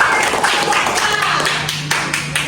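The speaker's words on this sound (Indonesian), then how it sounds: "Kasih tepuk tangan untuk kelompok." A classroom of students gives a group a burst of steady, crowded applause. The close, dense clapping fills the room without a break.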